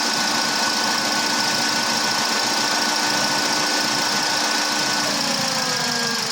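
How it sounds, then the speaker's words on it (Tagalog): A 2022 Toyota Avanza idling with its AC compressor engaged gives a steady, continuous mechanical hum with a faint whine running underneath. The sound holds even and close throughout, and no one speaks. "Umina na rin yung compressor."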